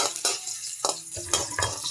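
Ginger, garlic and onion are stirred in a pan while sautéing for Filipino squid adobo, with sharp clinks of a utensil against the pan at irregular intervals over a faint sizzle.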